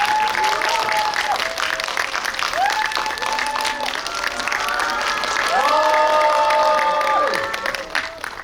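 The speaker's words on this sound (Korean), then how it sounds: "세 분 큰 박수로 맞이해주세요." Cinema audience at a guest-visit screening in Lotte Cinema World Tower clapping loudly to welcome three guests, a sustained dense applause with cheers and whoops rising over it.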